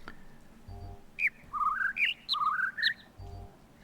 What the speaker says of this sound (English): that is the bird that I want, the second one that makes that noise.